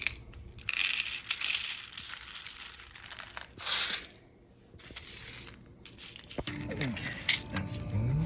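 Dry cat food being poured for an outdoor cat, with bursts of rattling, crinkling kibble and bag handling separated by short pauses, close by, with brief speech toward the end.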